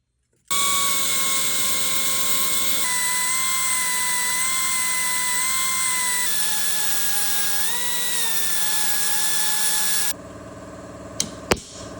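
A power grinder cuts a bushing out of a car hood hinge, a loud steady high whine close by that shifts pitch a few times before cutting off, followed by a couple of sharp metallic clicks.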